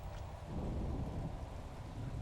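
Thunder and heavy rain in the Eternal Darkness video game, a steady low rumbling wash of storm sound that fills the whole stretch at moderate level, with no voices.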